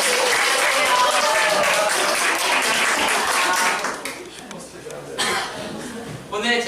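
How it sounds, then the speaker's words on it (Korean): Audience applause welcoming a student presenter at a Korean summer-class graduation, loud continuous clapping that fades after four seconds into scattered claps, murmurs and light chuckles. "큰 박수로 맞이해주세요"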